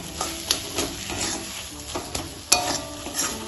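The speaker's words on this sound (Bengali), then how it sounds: "চিনিটা এর সাথে ভালোভাবে মিশিয়ে নেব।" A spatula stirs sugar into taro paste cooking in a pan, making repeated scraping and sticky stirring strokes over a low sizzle, close and moderately loud, with no voices.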